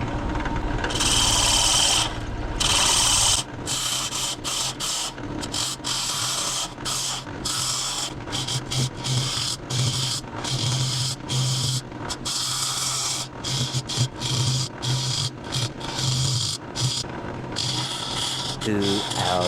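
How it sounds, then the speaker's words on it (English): Continuous scraping and rasping of a bowl gouge hollowing a wooden vase on a lathe, steady and fairly loud, with a low motor hum underneath and brief gaps between cuts. "Get out your bowl gouge and start working on the inside and this rim."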